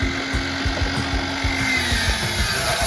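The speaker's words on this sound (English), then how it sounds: "Next step is to cut all the planks the right size." Wooden fence planks being cut to size with a power tool at an outdoor woodwork workshop, a steady buzzing drone with repeated rhythmic strokes, continuous and fairly close, with no talking.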